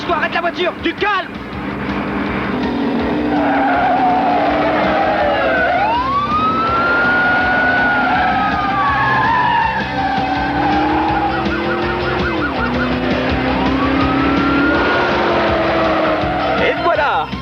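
A car brakes hard and its tires squeal and skid through long wavering screeches before it comes to a stop. The scene is from a 1994 French television film, with loud engine and road noise throughout.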